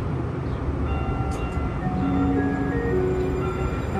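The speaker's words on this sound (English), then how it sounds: "Southbound train is approaching the station." A Phoenix Valley Metro light rail train approaches a station with a steady, loud rumble and faint wheel squeal, continuous and near throughout.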